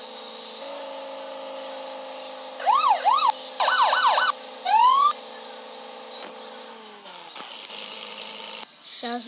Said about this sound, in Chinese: 一定要用这个警笛